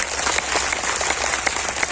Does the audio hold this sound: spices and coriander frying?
no